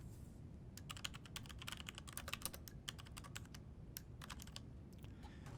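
Quick bursts of typing on a computer keyboard, irregular runs of close, crisp key clicks with short pauses, over a low steady room hum; no voices.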